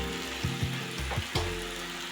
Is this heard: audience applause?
no